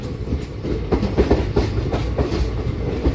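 The 58506 fast passenger train from Visakhapatnam to Gunupur runs along the track with a steady rumble and rhythmic clickety-clack of wheels, heard from inside the carriage, loud and continuous with no voices.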